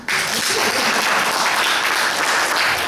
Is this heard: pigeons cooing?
no